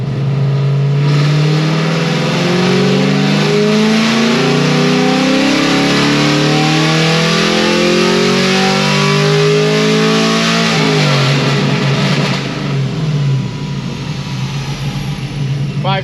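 On a dyno, a car engine fitted with new cylinder heads and a camshaft screams loudly as it climbs steadily through a long full-throttle pull, then drops off sharply and winds down near the end.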